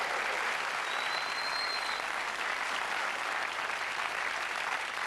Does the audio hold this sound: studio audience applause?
yes